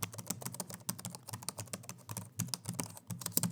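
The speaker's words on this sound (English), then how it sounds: "Type in a prompt, retro cinematic soundtrack for a 2D pixel art game" Rapid, uneven clicking of a computer keyboard as a prompt is typed, close and fairly quiet, with keystrokes in quick bursts and short pauses between them.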